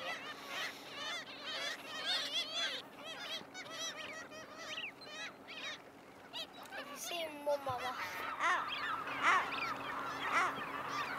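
A flock of birds squawks and honks continuously on the Yorkshire coast at Whitby, many overlapping harsh calls close by, with a low boat engine hum underneath.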